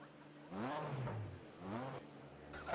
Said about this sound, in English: I hear an engine revving